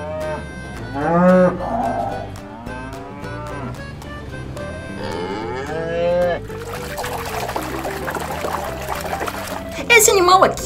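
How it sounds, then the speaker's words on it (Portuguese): A cow moos loudly a few times, mixed with a person speaking and splashing, pouring water noises toward the end. "Esse animal aqui é a vaca."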